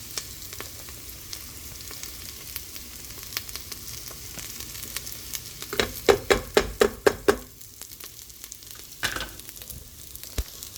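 Garlic and a large amount of onion fry in a pot for smothered pork chops, a low steady sizzle broken midway by a quick run of sharp clattering stirs, with no talk.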